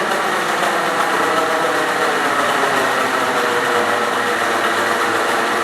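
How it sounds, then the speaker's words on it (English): A 600 RPM electric motor runs at a set speed of 500 RPM under IoT speed control, giving a steady, continuous hum with faint vibration at even loudness throughout, no voices. "this is the 600 RPM motor, but it is running on 500"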